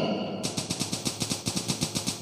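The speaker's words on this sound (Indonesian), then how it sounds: "tembak Mel" Rapid machine-gun fire in a video game rattles off as a steady burst of evenly spaced shots, about seven per second, loud and close with no talk over it.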